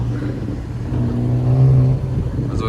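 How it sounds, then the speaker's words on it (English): A BMW 328i engine revs repeatedly, its hum rising and falling at moderate distance, a steady mid-pitched drone swelling in the middle. "there's like a 328i that just keeps going back and forth, like just revving"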